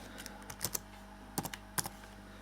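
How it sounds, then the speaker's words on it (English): Soft, irregular clicks of typing on the small built-in keyboard of a Pocket C.H.I.P handheld computer, coming in short bursts of a few keystrokes at a time, quiet and close against a faint background hum. "You see I'm typing stuff in, but nothing is happening on the screen"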